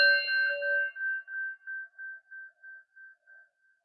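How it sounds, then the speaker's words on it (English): A single meditation bell is struck once at the start of a gentle hatha yoga practice, ringing out clear and bright, then fading slowly over several seconds in softly pulsing waves until nearly silent, with no talking. "take in the sound of the bell, following it to the end"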